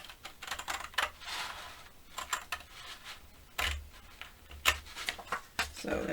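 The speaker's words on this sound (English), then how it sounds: "long bladed scissors work well when you're doing this" Long-bladed scissors snip through paper along a score line, giving a series of crisp, close cutting sounds in uneven bursts with short pauses between them.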